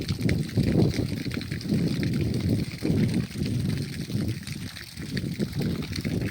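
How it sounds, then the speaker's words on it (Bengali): Fresh drinking water pours steadily and goes to waste, a continuous close gush and splash with a slightly irregular, surging flow. "আপনারা দেখছেন কিভাবে জল নষ্ট হচ্ছে পানীয় জল একদম ফ্রেশ ওয়াটার"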